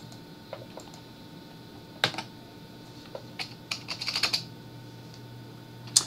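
Keys tapped on a computer keyboard while a password is entered, a handful of scattered clicks followed by a quick burst of keystrokes and one final press, close and fairly crisp over a quiet room hum.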